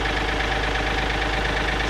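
A Kioti 3520 tractor engine idles in neutral on flat ground, a loud, steady diesel rumble with an even mechanical chug throughout and nothing else standing out.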